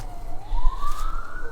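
Emergency sirens from ambulances and fire trucks wail past from a distance, one steady rising tone sliding upward over low background rumble, with no one talking.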